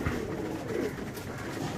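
Pigeons coo softly and low in a short burst, close by, over a faint background hum.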